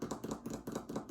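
A voice imitates rain hitting the side of a house with quick, soft, rhythmic tapping patters, about eight brief bursts in a steady beat, quiet and close, with no talk.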